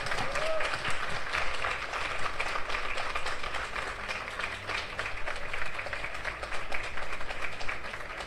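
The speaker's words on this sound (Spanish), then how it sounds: "¡Fuertes los aplausos!" Applause rises from an audience at a raffle prize-giving after the winner of a 2022 Toyota Hilux pickup is announced. Many hands clap in a steady, moderately loud wash that runs the whole length, with faint crowd noise beneath.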